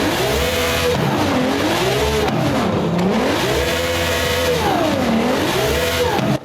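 A Lamborghini Sesto Elemento fitted with a turbo in Forza Horizon 5, its engine revving and accelerating in repeated rising and falling sweeps, loud and continuous with faint tire squeal.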